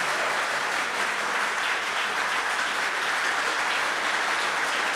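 A school audience at a televised quiz show final claps warmly, with steady, dense applause throughout, loud and continuous with no talk.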